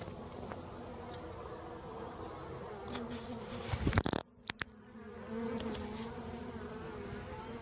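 Honey bees in a small nuc hive with fresh comb on wax foundation, a steady close buzzing drone throughout, briefly interrupted by a few sharp knocks and handling bumps midway before the hum resumes.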